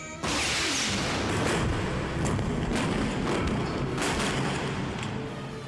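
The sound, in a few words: film effects of a frigate shelling the Stealth ship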